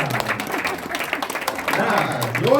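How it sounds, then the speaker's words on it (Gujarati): Audience clapping at a stage event in Ahmedabad, a ragged burst of hand claps heard close by with a voice talking over part of it, getting louder toward the end. "જોરથી તાળી વગાડો ને."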